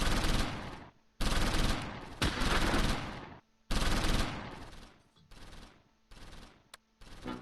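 Gunfire in the Close Combat V wartime strategy game: dense, loud bursts of machine-gun and rifle fire in long rattling volleys separated by brief gaps.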